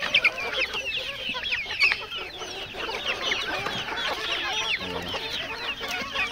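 Native village chickens and a rooster on a poultry farm cluck busily and continuously, many close birds overlapping in a steady chatter with no voices.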